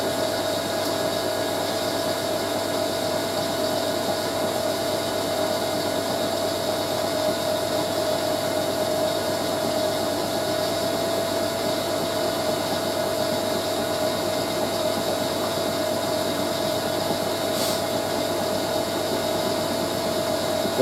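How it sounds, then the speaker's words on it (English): A Hoover A3060 Electronic 1100 washing machine runs with loose taper bearings, a steady droning hum and vibration with faint knocking, continuous and close throughout. "The knocking sound here is the bearings, because they're taper bearings, so they run a little bit loose on the machines."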